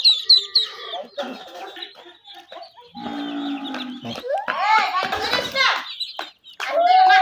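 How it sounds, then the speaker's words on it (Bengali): Tiger chickens at a home poultry coop sound off with clucks and rooster-like calls, loud and close, mixed with other animal noises while people talk over them. "এইগুলো হচ্ছে আমাদের টাইগার মুরগি"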